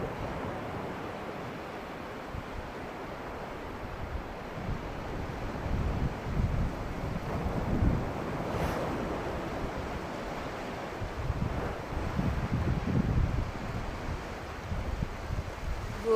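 Ocean waves wash onto the shore in a continuous broad rush, swelling and receding in slow surges, with wind buffeting the microphone and no voices.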